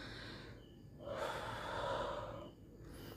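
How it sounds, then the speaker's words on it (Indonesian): A man pants heavily after climbing up and down stairs. He draws one long, audible gasping breath in and out close to the microphone, framed by quieter breathing, with no words spoken. "Sorry ngos-ngosan gua habis naik turun tangga"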